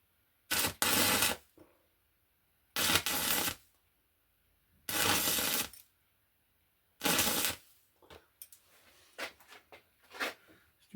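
Weld slag pinging and cracking off a cooling stainless steel weld, four sharp bursts of metallic ticking spaced about two seconds apart, close and clear, followed by scattered fainter clicks.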